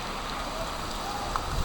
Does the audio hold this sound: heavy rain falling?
yes